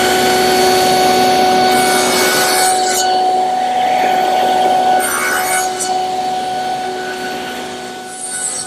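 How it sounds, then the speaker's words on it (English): A table saw with its blade raised to 5/16 inch makes shoulder cuts across wooden front rails, a steady loud motor whine with rasping cutting bursts that fades slightly toward the end, and no voices. "Now I'm going to raise the blade to 5/16 of an inch and make the shoulder cuts on the front rails"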